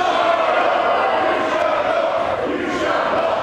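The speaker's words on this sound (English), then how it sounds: "The crowd replying, you shall not." A wrestling crowd at an all-women EVE show chants back in unison, a steady roar of voices filling the arena without a break.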